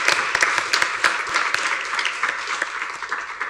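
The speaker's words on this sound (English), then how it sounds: "I think this whole room should give you guys all a huge round of applause" A room full of people at a school board meeting bursts into sustained, lively applause, with dense overlapping claps holding steady throughout.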